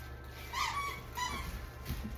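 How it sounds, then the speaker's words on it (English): Goofy dogs tussling over a small purse, with whimpers, yips and soft growly squeals in short bursts, close by, over a faint steady background with no talk. "hearing these goofy dogs fighting over this little purse"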